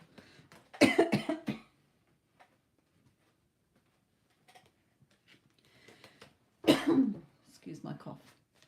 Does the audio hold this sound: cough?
yes